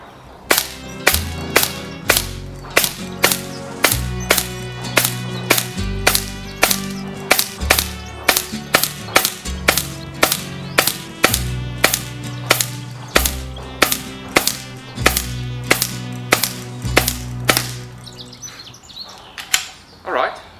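An air rifle fires FX hybrid slugs in a rapid, regular string of sharp cracks, roughly one per half second, each loud and close with a brief mechanical clatter, for about seventeen seconds before falling quiet.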